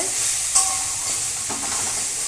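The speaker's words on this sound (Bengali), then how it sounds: "আলু মিষ্টি কুমড়োটা ভালো করে কষিয়ে নিয়েছি" Potato and pumpkin sauté in a pan with ginger-cumin paste, a steady loud sizzle broken by a brief metallic clink and a couple of stirring scrapes.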